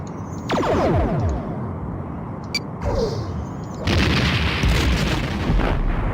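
Starship weapons discharge in the Star Trek: A Final Unity game: loud booming blasts with sweeping tonal tails, a first volley early on and a heavier, sustained burst in the second half.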